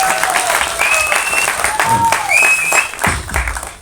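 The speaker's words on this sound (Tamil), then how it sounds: "கைத்தட்டி சவுண்ட் ரொம்ப சந்தோஷமாக இருக்கு." Audience applause fills the room at a Tamil film event, a dense, steady wash of clapping from a crowd, fairly loud and close, with faint whistles cutting through.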